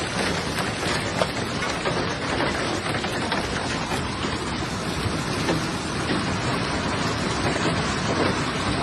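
Heavy storm rain pours down in a dense, steady roar, strong winds gusting through it, loud and continuous throughout with no pause or voice.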